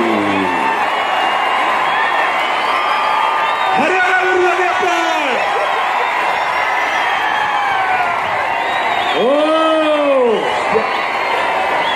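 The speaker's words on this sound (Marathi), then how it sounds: "जोशाने जल्लोष चालू झालेला" A large crowd at an outdoor Indian wrestling (kusti) match cheers loudly and steadily throughout, with whoops and shouting voices rising over the din and a commentator talking over it.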